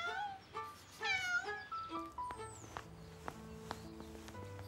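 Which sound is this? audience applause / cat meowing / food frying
cat meowing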